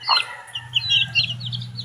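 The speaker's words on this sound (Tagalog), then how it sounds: "Bisaya to, Bisayang manok." A nearby Visayan native chicken gives a few soft clucks over high peeping calls, with a low steady hum underneath.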